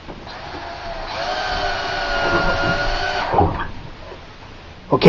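A drill drives drywall screws into wooden 2x4 boards, a steady whine holding for a couple of seconds and then winding down, followed by a brief knock as the screw seats.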